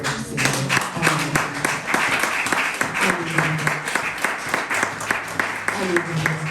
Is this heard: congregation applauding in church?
yes